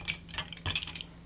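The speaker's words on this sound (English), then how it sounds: "Stir it up a little bit." Spoon stirring a pineapple cocktail with coconut flavor in a glass, a quick series of light metallic clinks and taps against the glass, close and brief, with no talk.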